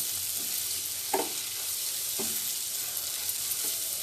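Rajma filling fries steadily in a pan for a Bengali-style rajma curry, giving a constant close hiss with a few brief stirring knocks.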